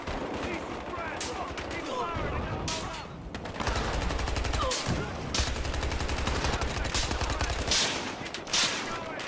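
A Tommy gun fires in Battlefield Hardline multiplayer on PS4, rapid automatic bursts of a few seconds each separated by short pauses, loud and close, with other gunfire and a voice talking over the shooting.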